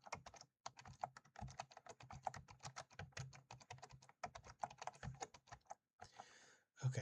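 Fast, steady typing on a computer keyboard, close and clear, with dense clacking keystrokes and brief pauses, ending with a short rustle.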